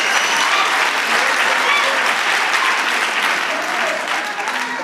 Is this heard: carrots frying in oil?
no